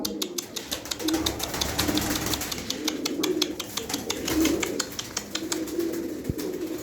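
Pigeons coo low and repeatedly as white birds are released, with rapid bursts of wing flapping and clatter close by, and no talk over them.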